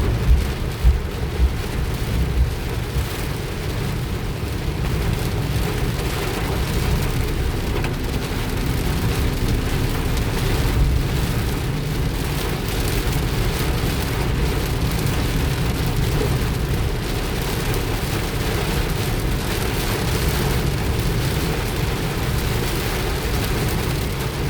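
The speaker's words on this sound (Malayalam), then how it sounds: "മഴ നിന്നിട്ടില്ല കേട്ടോ, മഴ പെയ്തുകൊണ്ടിരിക്കുകയാണ്" Heavy rain pounds steadily on a car driving through a strong downpour, a dense continuous roar of drops on the roof and glass with low road and engine rumble underneath, unbroken for the whole stretch.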